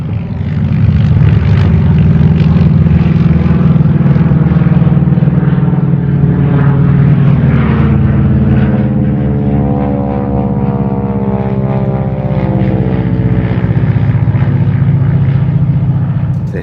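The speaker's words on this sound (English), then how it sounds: "Since the last time I was out here, there must have been 100 planes." Low-flying propeller airplanes pass right over a house one after another, a loud steady engine drone that swells and holds throughout with no talking.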